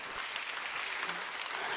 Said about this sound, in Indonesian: ya boleh tepuk tangan buat Tuhan Yesus